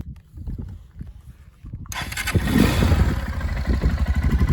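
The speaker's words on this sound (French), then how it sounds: "Donc voici le démarrage de cette Rieju 125 MRT." A Rieju 125 MRT motorcycle engine cranks with quick low thumps, then catches about halfway through and settles into a steady, loud, close idle with a rattly mechanical edge.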